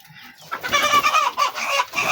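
Hens and a rooster on a farm cluck loudly and agitatedly as they are being caught, with rapid overlapping squawks close to the microphone after a quieter start.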